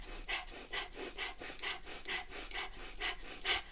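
Rapid breath-of-fire breathing through the nose during a solar plexus chakra yoga exercise: about eight quick, even, close puffs of air in a steady driving rhythm, with no talking.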